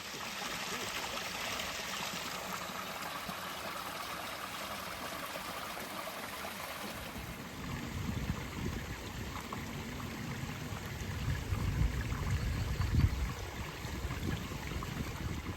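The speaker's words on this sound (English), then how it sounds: "This here is the biggest waterfall" Steady broadband rush of the biggest waterfall on Birchen Clough at Ewden Beck, a moorland stream running with plenty of water, continuous and fairly close, growing slightly heavier and lower toward the end.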